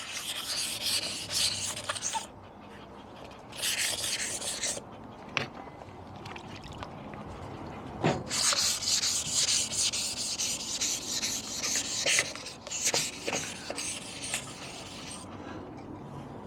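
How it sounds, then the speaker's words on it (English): A part from a Mobylette Motobecane X7 moped is rubbed down smooth by hand, giving repeated raspy strokes of abrasive with short pauses and a few sharp knocks, close and fairly quiet. "we'll just go ahead and just gently rub that down a bit"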